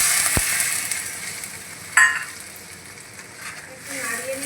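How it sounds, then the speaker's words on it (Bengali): Fried potatoes being stirred into a spice paste in a pan for a pointed gourd and prawn curry, a steady close sizzle with a sharp scrape of the spoon midway. "একটু নাড়িয়ে নিচ্ছি"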